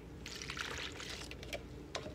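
Liquid pours and trickles into a container while making sesame bread, a soft uneven splashing with a few separate drips near the end, fairly quiet.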